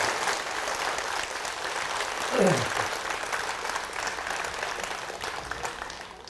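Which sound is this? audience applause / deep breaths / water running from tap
audience applause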